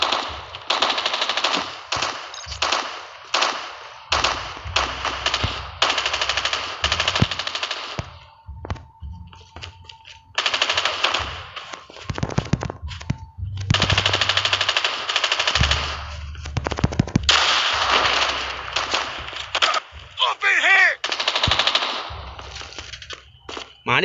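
Sustained automatic gunfire in Call of Duty Mobile, with long loud bursts of rapid shots broken by brief pauses and scattered single reports, close and dominant throughout.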